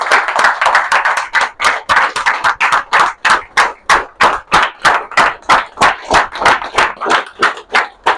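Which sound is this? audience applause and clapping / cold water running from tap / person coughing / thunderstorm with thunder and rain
audience applause and clapping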